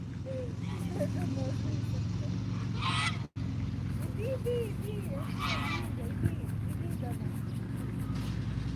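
Geese honk repeatedly near a crowd of people, with sharp calls rising over a steady background hum, and people talk throughout.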